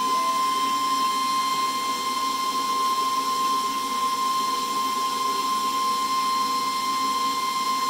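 Laser cutter cutting face shield visor pieces, heard as a steady, unbroken mechanical whine with a sharp pure tone over a constant airy hiss, loud and close for the whole stretch with no talking.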